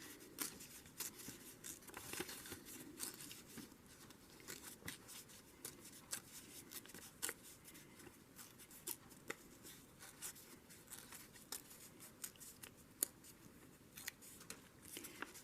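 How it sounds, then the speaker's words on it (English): Paper page being torn out of a handmade smash book by hand, a soft continuous ripping and crinkling at close range with small crackles throughout, no talking. "So I think I'm just going to tear her out. Because you know I'm not going to cut it."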